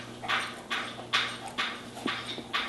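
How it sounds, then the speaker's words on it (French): A pet dog laps water from its bowl indoors, a run of close, wet slurps repeating steadily about twice a second with no talking. "On entend mon chien qui boit de l'eau."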